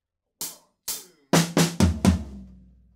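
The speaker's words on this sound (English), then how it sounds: "After that, there's a little fill." Drum fill from a song: six sharp hits, two spaced single strikes followed by four quicker heavier ones with low thump, ringing out briefly at the end, close and alone.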